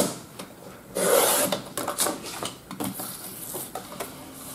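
Paper for a spiral-bound album being cut and handled at close range, with scraping, rasping strokes and rustling in irregular bursts and no voices.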